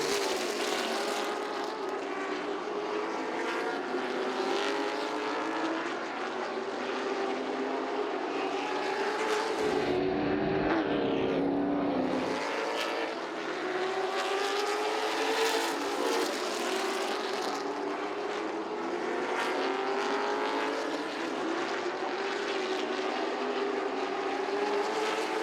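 Late model stock cars race around Southside Speedway, their engines droning loud and continuous as the pack roars past, with a brief surge of noise midway through.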